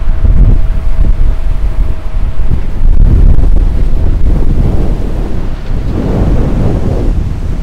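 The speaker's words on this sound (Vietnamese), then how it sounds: "Ở biển này thì chỉ có gió thôi chứ không có gì cả" A strong storm wind blasts across a beach in Da Nang, blowing sand, with surf behind it. There is a constant loud roar with heavy rumbling buffeting against the microphone.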